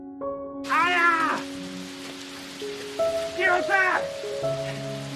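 Heavy rain in a film scene makes a steady broadband hiss throughout, partly masked by a cat's loud cries and a voice shouting over the downpour.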